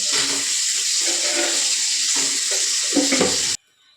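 Peanuts frying in hot oil, a close, bright hiss and crackle with a few stirring scrapes, running steadily for several seconds before cutting off abruptly.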